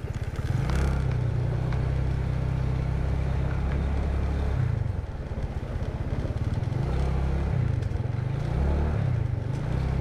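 A motorcycle engine drones loudly and continuously, rising and falling as it revs over a rough, slippery forest trail, with clattering from the bumpy ride.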